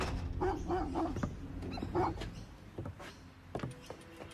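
Several dogs bark near an isolated Australian house in a crime documentary reconstruction, short yapping bursts repeating in clusters at moderate distance against a steady background hum.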